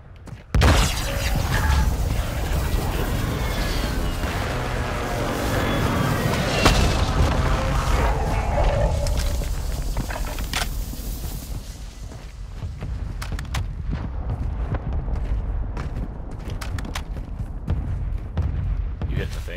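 Mortar strike explosions in a shooter video game: a dense run of booms and shattering blasts rolls on for most of the stretch, loud and layered, easing toward the end with scattered sharp hits.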